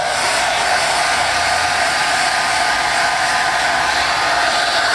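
A hair dryer blows continuously at full power, a loud, steady rushing hiss that stays unchanged from start to finish with no talk over it.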